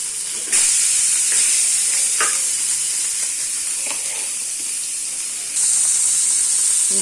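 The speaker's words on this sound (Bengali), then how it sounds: "বড় মাছ একটু ভেজে রান্না করলে ভালো লাগে।" A large fish marinated with salt, turmeric and chilli sizzles in a frying pan with a strong, close hiss that surges when it is moved. Intermittent stirring scrapes punctuate the steady frying, and no one speaks.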